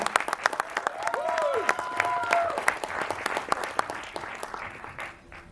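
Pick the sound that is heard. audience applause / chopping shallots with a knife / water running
audience applause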